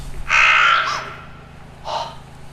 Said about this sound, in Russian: Закаркал ворон.